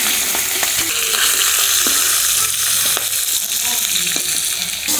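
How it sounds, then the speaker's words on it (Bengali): River fish fry in hot oil with a loud, constant crackling sizzle and occasional stirring scrapes, close up and without speech. "মাছ ভাজা হয়ে গেছে, এখন মাছগুলো তুলে নেবো।"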